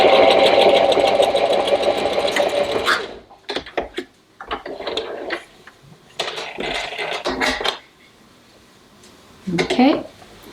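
Sewing machine stitching a fabric wear-tracker label, a loud continuous whirring run at the start followed by short stop-start bursts of stitching.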